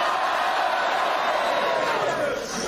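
A television studio audience cheers and shouts together, a loud sustained crowd roar with mixed voices that swells and fades slightly toward the end.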